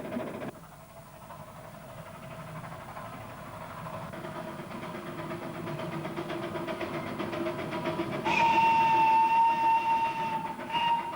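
A small tourist railway train in Tasmania rumbles along steadily, the clatter growing louder as it approaches, with a sustained whistle-like tone near the end.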